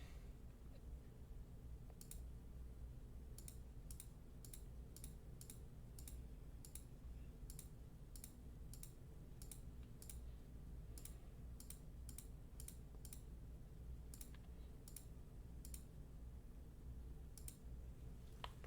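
A computer mouse clicks in Ansys software, giving many crisp, separate clicks at an irregular but steady pace. The clicks are close and quiet over a low hum, with no talking.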